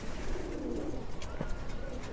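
Pigeons in a loft, a household collection of paired birds with chicks, give soft low cooing close by, a brief murmuring call over a light background.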